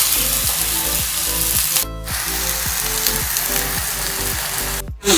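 Banana pieces fry in hot ghee with a continuous close sizzle and a regular rhythm of light clicks and taps from the pan, briefly cut by a couple of short bursts of sharper noise, with no voices.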